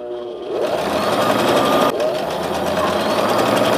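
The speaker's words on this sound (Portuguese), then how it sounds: "Aí eu vou fazer duas costuras aqui nesse galão. Nessa borda e na borda de cima" A sewing machine runs steadily and loudly for nearly the whole stretch, stitching two seams along the trim of a Christmas dish towel, with no talking.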